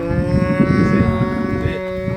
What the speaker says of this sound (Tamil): மாடு கத்தணும்னு கேட்டியா?